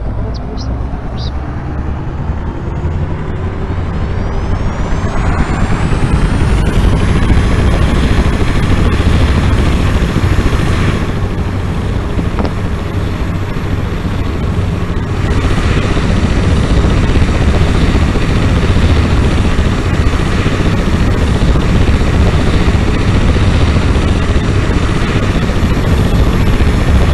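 Aircraft engine starting up in a video game: a loud continuous roaring drone that builds and rises in pitch over the first several seconds with a climbing whine, then holds steady.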